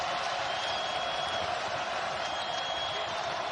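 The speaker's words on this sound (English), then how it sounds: "And now the crowd trying to help out the Noles at the defensive end" Basketball arena crowd noise during a Florida State defensive possession in a college game against Duke, a steady, dense roar of cheering and shouting with no breaks, sustained and loud throughout.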